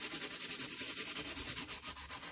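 Steady back-and-forth sanding on a stiff embossed card surface, close up, with a quick scratchy rhythm of short strokes and no voices.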